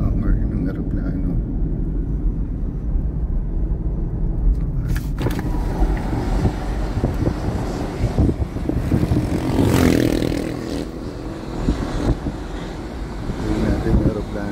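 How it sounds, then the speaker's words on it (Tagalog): An airplane flies near a military-base airport in Floridablanca, Pampanga: a broad rumbling engine drone rises and swells in the middle, with people talking over it. "Tingnan natin yung aeroplano."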